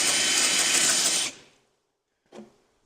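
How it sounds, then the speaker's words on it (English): A drill bores out a small hole to make it bigger for a larger screw extractor, a loud steady whir for over a second, cutting off, then a short second burst. "I got to drill this hole out a little bit bigger"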